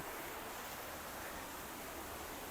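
Waterfall at Utod River and Falls, a steady, dense roar of falling water that runs unbroken, with no voices over it.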